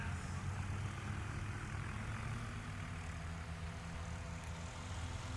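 A STOL aircraft taxis past at a Music City STOL sport-class competition, its propeller engine giving a steady, faint, distant drone with a low rumbling hum that holds even throughout.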